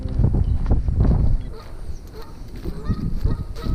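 Geese honk repeatedly close by beside a pond, with wind buffeting the microphone and some low rustling throughout.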